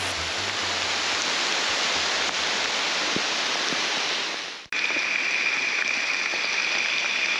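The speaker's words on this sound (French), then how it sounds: "La mousson, période des pluies, il pleut pas tout le temps, mais il pleut beaucoup." Heavy, steady monsoon rain in Trinidad pours down in a dense, continuous hiss, broken by one sudden brief dropout before the downpour resumes.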